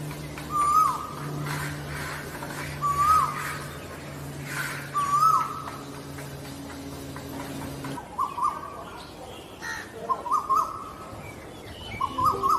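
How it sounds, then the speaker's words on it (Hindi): A koel sings outdoors, repeating a clear rising whistled call about every two seconds, fairly close, over a steady low hum and soft background noise. "यह कोयल है, अब कोयल की आवाज भी सुनिए।"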